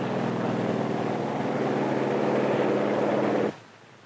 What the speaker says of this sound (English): Also taking off from the carrier are control planes that will guide the radio-controlled drone boats.